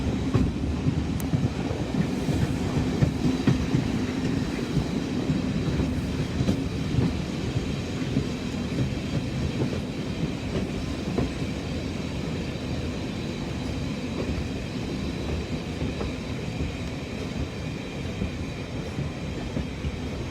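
A heritage train on the Strathspey Railway in Scotland rumbles steadily along the tracks, a continuous low clatter and roar with faint rhythmic wheel noise, no voices.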